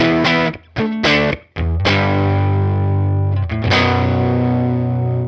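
Heavily overdriven electric guitar through a Universal Audio Woodrow 55 amp simulation, loud chopped chord stabs giving way to long sustained, distorted chords that ring out with a brief re-strike near the end.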